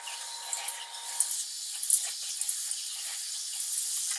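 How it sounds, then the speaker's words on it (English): Water runs from a bathroom sink tap and is splashed onto a face, a soft, close hiss with small irregular splashes over the steady flow. "So I'm going to just like splash water on my face"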